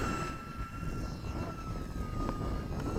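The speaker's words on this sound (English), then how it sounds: "Okay, Jack, I'm gonna land." An RC model jet, an F/A-18, comes in to land at a flying field, its turbine whine a steady, moderately loud tone with broad rushing noise that holds evenly throughout.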